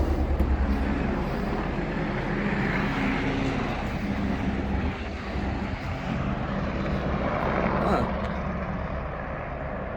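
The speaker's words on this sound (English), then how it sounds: "there's the helicopter coming in." A steady aircraft engine drone fills the scene, loud and continuous like a nearby helicopter, with voices talking over it.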